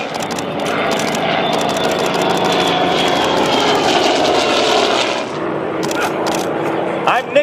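A Douglas A-1 Skyraider, a piston-engine attack plane, passes overhead at an air show with a loud, sustained roar that fades near the end as a voice talks over it.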